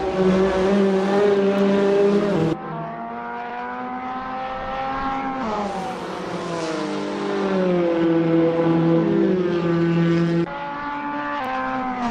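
Race cars at Virginia International Raceway during an IMSA round roar loudly past slower traffic, engines shifting pitch through several gear changes and passes over a sustained, close drone.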